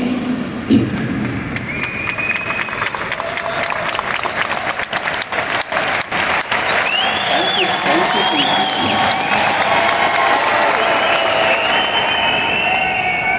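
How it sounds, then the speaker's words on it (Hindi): Large seminar audience at a wellness coach's health talk applauding loudly and continuously, a dense steady wash of clapping with cheering, whistles and some voices mixed in, sustained throughout. "ताली बचा के रखिए"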